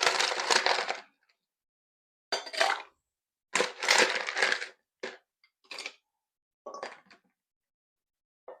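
Ice is added to a metal cocktail shaker tin in a series of loud, close, clattering crashes and cracks, some clusters longer than others, separated by short silences.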